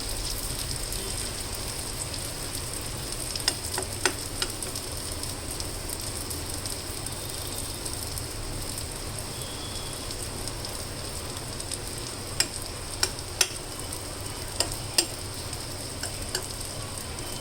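Egg and oats cooking on low heat in a non-stick pan, giving a steady, even sizzle throughout with a few sharp clicks scattered over it, close and moderately loud.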